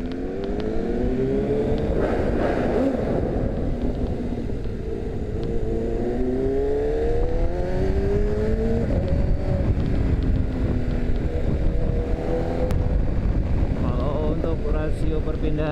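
An MV Agusta F4RC sport motorcycle engine revs hard and climbs through short gear changes, the rising pitch sweeping up again and again, loud and close under heavy wind buffeting while someone talks over it.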